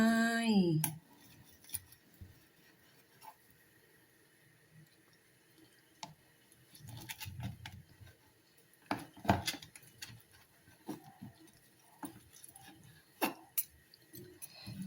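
A knife taps and scrapes against a plate in irregular cuts, with light clinks of utensils and soft squishy sounds, close by and fairly quiet.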